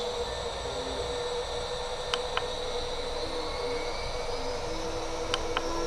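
CNC spindle motor on an inverter drive gives a steady high-pitched whine whose tone creeps slowly upward as the frequency rises, with a couple of faint clicks and no talking.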